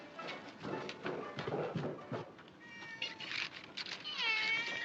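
A cat meows several times in a row, with rising and falling drawn-out cries that grow more insistent toward the end, fairly close and clear over a quiet background.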